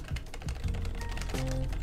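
Rapid, steady keystrokes on a Logitech MX Mechanical low-profile keyboard, close and crisp with a soft, fairly quiet clack, and no talking.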